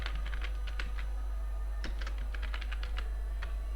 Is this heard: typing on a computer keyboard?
yes